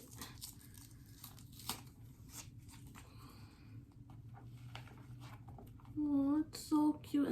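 Packaging is peeled and torn off a small Telfar bag during an unboxing, soft crinkling and tearing close by, ending in a few louder rips.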